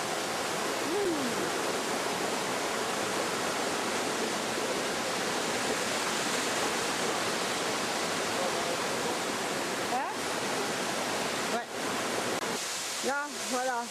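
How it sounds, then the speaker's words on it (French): A tall waterfall in French Polynesia roars as a dense, constant wash of white noise heard from its base, with people's voices faintly mixed in near the end. "on est au pied de la cascade, quand même très haut"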